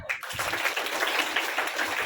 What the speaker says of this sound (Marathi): मी आपण सर्वांच्या वतीनं कौतुक करतो तुम्ही टाळ्या वाजवा